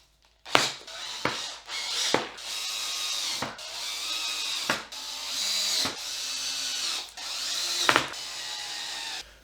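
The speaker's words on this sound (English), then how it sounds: "nice even pressure with the drill" A power drill driving screws during IKEA cabinet assembly whirs in several short bursts, stopping and starting between runs, close by and fairly quiet, with sharp clicks at each pause.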